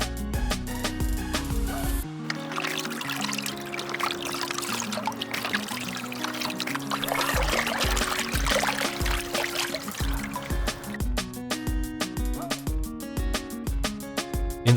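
Running water pours and splashes steadily over a Realme X50 smartphone during a waterproof flush test, a continuous rushing stream heard beneath loud background music.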